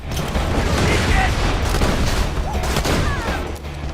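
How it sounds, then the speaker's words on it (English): Grenade explosions and gunfire in Borderlands 2 form a dense, continuous roar of combat with repeated booms, and voices can be heard under the noise. "Throw another grenade and he's moving."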